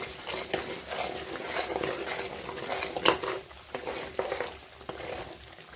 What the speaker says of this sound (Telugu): వీటిని కొంచెం మంచిగా మిక్స్ చేసి లైట్గా ఫ్రై అవ్వనిద్దాం